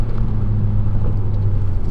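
Nissan Juke Nismo RS with a manual gearbox cruising, a steady low engine drone and road rumble from inside the cabin, no voices present.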